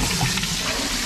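A newly plumbed, refurbished toilet flushing in a house renovation, a steady rushing wash of water close by that fills the whole short moment with no voices.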